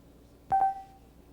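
A cellular phone built into a portable computer, shown in 1990, dials out to place an order, giving one short, clear electronic dialing beep with a faint lingering tone in a quiet room.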